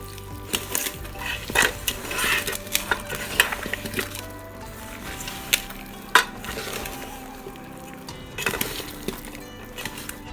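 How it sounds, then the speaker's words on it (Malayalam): Chicken being mixed with spice powders and onions in a pan for a Kerala-style nadan chicken curry, with repeated scraping and clinking of a utensil against the pan and sharp metallic knocks at irregular intervals, close and fairly loud. "നല്ല പോലെ ചിക്കനിലേക്ക് ആ പൊടികളും സവോളയും ഒക്കെ നന്നായിട്ട് നമുക്ക് മിക്സ് ചെയ്ത് കൊടുക്കാം"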